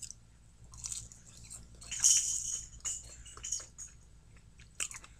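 McDonald's fries being chewed close to the mic, with soft crunchy bites and wet mastication sounds coming in irregular bursts over a quiet background.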